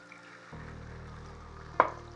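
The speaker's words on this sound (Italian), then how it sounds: "alzo la fiamma e aggiungo la mitica vodka" Vodka poured onto onion frying in a pan, the sizzle jumping up suddenly and holding as a steady hiss, with a brief clatter near the end.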